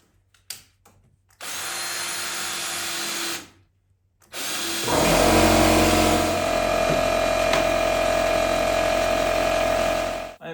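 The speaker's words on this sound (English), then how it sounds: "I will drill a pilot hole for the screw." A power drill whirs in two bursts, a short one first, then a longer, deeper run with a steady whine as the bit bores a pilot hole for a screw in wood.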